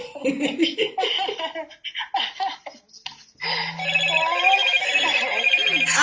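A telephone ringtone trills continuously and fairly loudly during a call-in phone conversation, following a burst of talk and laughter.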